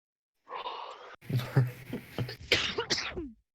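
A person sneezing close up, a sharp sudden burst after a short intake of breath, followed by a few breathy coughs and sighs.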